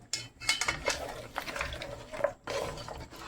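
Cooking oil stirred in a pot for palak gosht, a metal spoon scraping and clinking against the pot in quick, uneven strokes, close and fairly quiet, with no talking.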